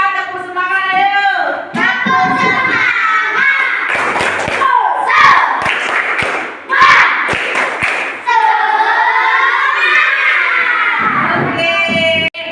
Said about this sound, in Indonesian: Coba kalau masih semangat kita tepuk semangat ayo.